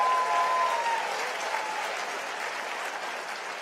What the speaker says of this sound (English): One more round of applause for my good friend Richie Torres.